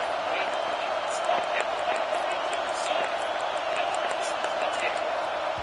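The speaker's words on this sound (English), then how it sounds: "listen to this crowd coming through" Stadium crowd at an American football game, a loud, steady roar that fills the whole stretch without breaks, with bursts of cheering rising within it.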